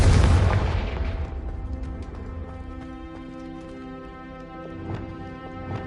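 Incendio and Confringo spell blasts in Hogwarts Legacy: a loud booming explosion at the start that decays into a ringing tail, with a few sharper pops and crackles following over the fading rumble.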